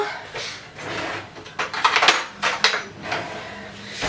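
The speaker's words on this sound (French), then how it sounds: "après je vais prendre une cuillère à soupe" Metal cutlery and kitchenware clatter as a tablespoon is picked up, a few close clinks and scrapes in quick succession, moderately loud, no talking.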